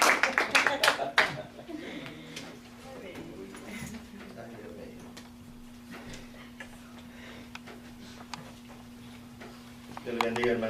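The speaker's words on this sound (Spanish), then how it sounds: "Así es que recibámoslo con un aplauso." A church congregation welcomes a visiting preacher with a short burst of close, sharp clapping that fades within about a second, followed by low room hum and quiet murmurs, with a few claps returning at the end.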